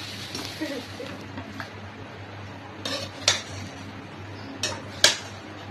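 A utensil scrapes and clinks against a pot while Chinese food is stirred during home cooking: soft continuous scraping with a few bright metallic taps, over a low steady kitchen hum.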